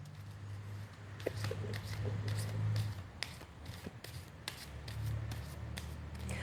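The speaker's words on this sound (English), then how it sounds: "So one more shuffle." Close, soft shuffling and riffling of tarot cards with papery rubbing and light taps, in uneven bursts under a low hum.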